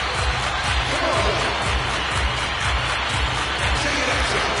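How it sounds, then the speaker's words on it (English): A virtual arena crowd claps in a steady rhythm during an NHL 24 hockey game, a dense, even wash of applause with rhythmic pulses beneath it. "Everybody clap your hands."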